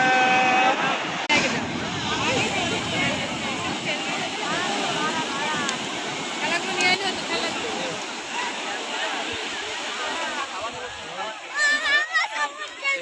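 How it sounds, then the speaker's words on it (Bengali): Sea waves break and wash along the beach at Puri, a broad rolling roar with wind buffeting the microphone while people talk over it. "কি সুন্দর ঢেউ।"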